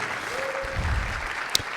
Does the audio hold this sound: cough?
no